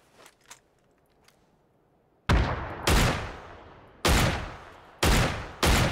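Gunfire in the PUBG battle royale video game: five loud, sharp shots in an uneven rhythm, each with a long reverberant tail, following a few faint distant pops.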